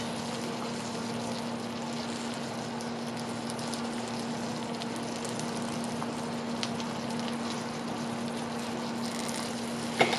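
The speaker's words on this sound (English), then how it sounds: "hear my sugar sizzling?" Sugar sizzles in a hot iron skillet for a pineapple upside down cake, a faint, steady crackling hiss with a low hum beneath and no talking.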